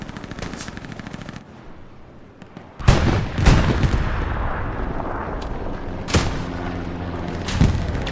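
Tiger tanks firing during a Utah Beach battle in the video game Hell Let Loose, with sharp loud cannon blasts and bursts of gunfire over rumbling combat noise and no talking.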